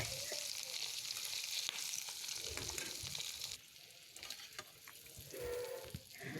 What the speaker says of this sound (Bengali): তাকে ডিম ভাজি করে দিতেছি